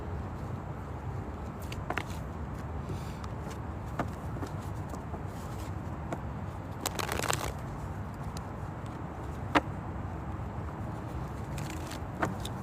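A deck of cards being shuffled, with repeated riffling bursts and soft flicks at close range over a steady low background hum, and no talk.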